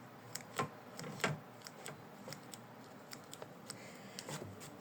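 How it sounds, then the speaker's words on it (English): Scissors snipping extra thread on an in-the-hoop cross bookmark, a few faint, sharp clicks and snips spaced irregularly over quiet background, close by. "here I'm gonna cut this extra thread"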